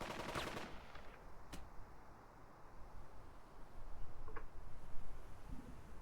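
Distant machine gun fire in the Burden of Command video game, a dense rattling burst at the start followed by a few sharp isolated cracks over a low rumbling battlefield ambience.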